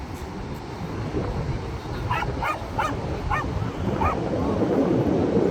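A small dog yips and barks about five times in quick succession, somewhat distant, over steady outdoor rumble and background noise on Long Beach in Tofino.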